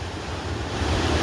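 Water from a river branch in Kashmir pours down as a waterfall, a steady broadband rushing roar that holds constant and swells slightly toward the end, with no voices.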